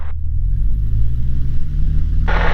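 Cessna light aircraft engine roaring at full throttle during a short/soft field takeoff, a loud steady low drone that holds throughout with a brief higher wash of noise at the start and again near the end.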